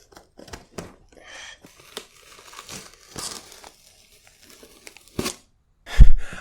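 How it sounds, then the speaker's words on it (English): Packaging crinkles and rustles in short scattered bursts as a shipping carton is unboxed up close, ending in a louder crumpling thump. "I'm just unboxing it."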